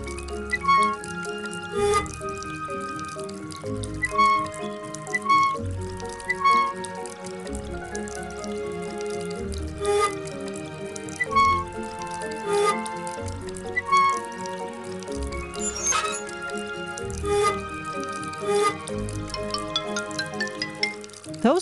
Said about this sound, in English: How are we gonna water these flowers?